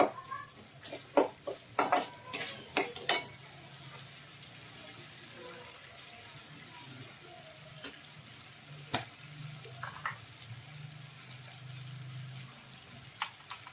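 Ginger, garlic and tomato frying in a pan for a vegetable jalfrezi rice, with soft sizzling under a cluster of sharp spatula scrapes and clacks early on, then sparser stirring knocks against a low steady fry.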